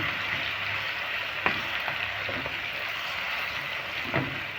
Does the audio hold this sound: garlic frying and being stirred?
yes